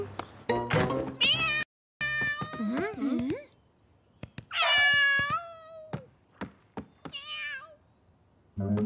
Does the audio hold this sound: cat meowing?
yes